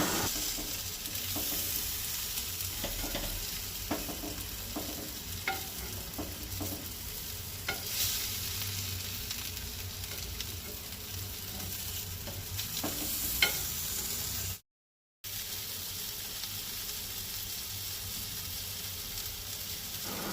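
Pomfret fish fries in a pan in a Goan home kitchen, giving a steady, quiet oil sizzle with occasional soft crackles and a utensil tap, continuous apart from a brief cut near the end, with nobody talking.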